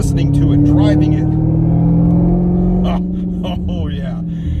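A car engine revs and holds a steady, throaty drone close by, easing slightly toward the end, with a voice partly over it.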